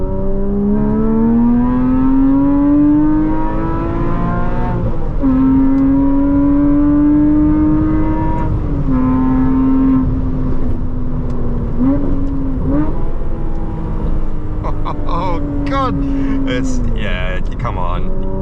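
A car engine revs under throttle, its tone climbing and holding, then dipping and rising again in a couple of quick blips over about eighteen seconds, loud and close.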